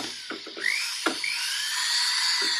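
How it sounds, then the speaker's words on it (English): A rotary tool burr runs on metal with a high, thin whine that bounces and chatters against the surface, holding close and steady over the short run after some brief knocks at the start. "the burr is just like bouncing along the metal"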